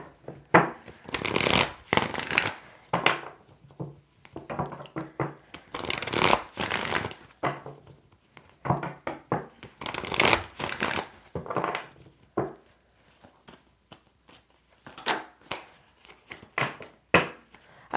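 Tarot cards being riffled and shuffled by hand at close range, repeated bursts of crisp flapping and snapping separated by short pauses, with no speech.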